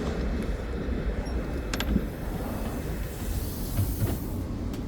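Interior of a train bound for Weymouth, with a steady low rumble of wheels and carriage motion throughout and a few faint high squeals and clicks, no talking.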